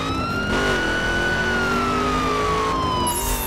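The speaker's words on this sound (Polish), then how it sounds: "Nie, to nie policja, to karetka." An ambulance siren in the video game The Crew wails loudly and continuously, its pitch rising and falling slowly over engine rumble, close by and with no talking.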